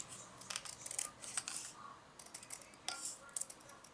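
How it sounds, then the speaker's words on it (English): Scissors cutting paper for a craft page, several short crisp snips in quick bursts up close, fairly quiet, with no talking. "if you just lay your scissors up against the edge, you'll cut pretty straight"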